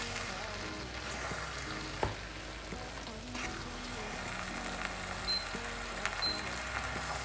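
Minced meat and vegetables in tomato sauce sizzle quietly in a pan while being stirred, with a soft bubbling crackle broken by occasional clacks of a utensil against the pot.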